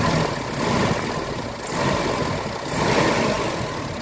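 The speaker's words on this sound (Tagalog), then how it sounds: "Medyo nangangatal yung andar ng makina." A Mitsubishi Adventure gasoline engine idles roughly with a steady, shaky mid-low drone. The note swells and dips a little but stays continuous and close throughout, with no one talking.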